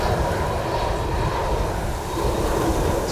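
Steady, loud roar of an airplane arriving at Amsterdam Schiphol during a storm, a continuous broad rumble mixed with gusting wind noise and no talking.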